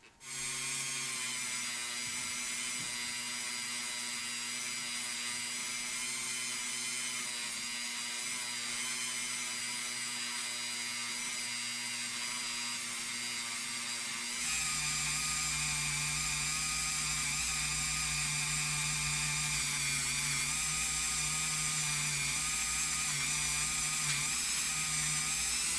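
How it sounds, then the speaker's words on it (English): A brass wire wheel spun by a rotary tool whines steadily and loudly against a restored Hot Wheels Redline Paddy Wagon die-cast model car body, its pitch dropping and deepening partway through as pressure changes, with no talking. "Just going to give this a little polish with a brass wire wheelie just to get rid of any oxidation"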